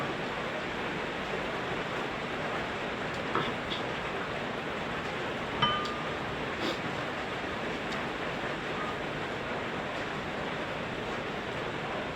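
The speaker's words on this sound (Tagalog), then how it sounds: "biglang bumuhos yung ulan" Heavy rain pouring down steadily at night, a dense even hiss that stays constant and fairly close, with a couple of faint brief clicks and no talking.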